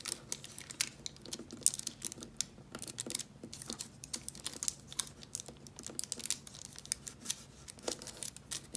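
Paper folded and adjusted while shaping a Waldorf star makes soft, close crinkles and small rustling taps, scattered irregularly and faint throughout.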